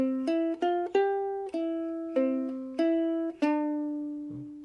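A plucked ukulele melody, single notes played one after another in an even, unhurried rhythm, each ringing clearly and fading, with the last note left to sustain.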